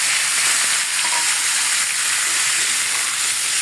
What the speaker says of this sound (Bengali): এখন আমি মিষ্টি কুমড়া ভাজি বসাই দিচ্ছি।